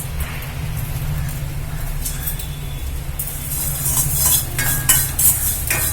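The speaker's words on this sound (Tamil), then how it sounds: "இந்த கருவேப்பிலையை போட்டு வறுக்க போறேன்ப்பா" Fresh green curry leaves fry and get stirred in a pan with salt, a soft steady sizzle over a low background hum, with brighter scraping and crackling bursts growing louder toward the end.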